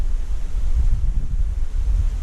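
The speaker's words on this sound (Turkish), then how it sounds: "Ne biçim rüzgar çıktı ya." Strong wind buffets the microphone in a steady low roar, with no other sounds over it.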